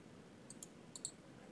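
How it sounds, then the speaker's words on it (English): Computer mouse clicks while installing fonts: two quick pairs of small, crisp clicks over a faint steady room hum, quiet and close with no talk. "Right click, install. Right click, install."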